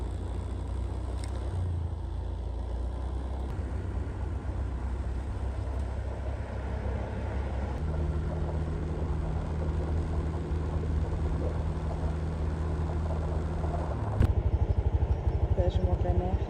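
A scooter rides through sunny Malaysia with a steady engine hum and rumble. The motor note shifts in pitch and then revs louder toward the end, over continuous road and wind noise.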